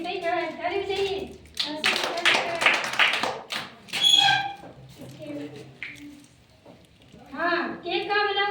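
A group of children claps hands in a classroom, a dense burst of rapid, close claps lasting a couple of seconds, with an adult speaking before and after and a smaller flurry of claps in between.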